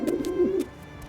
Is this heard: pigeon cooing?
yes